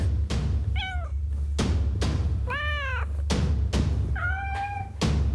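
Several loud, close cat meows from an alarm app, three drawn-out calls separated by sharp thumping knocks in a repeating pattern, with no talking.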